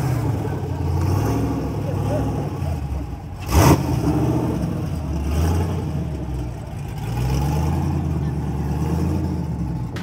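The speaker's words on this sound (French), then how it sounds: "Voici donc la toute première Corvette" A first-generation Chevrolet Corvette C1 engine rumbles close by with a low, throbbing note that rises and falls in uneven revs, marked by one sharp transient partway through.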